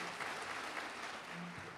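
Applause from the audience at a legislative summit, a short, dense patter of clapping heard at a distance, fairly faint and even.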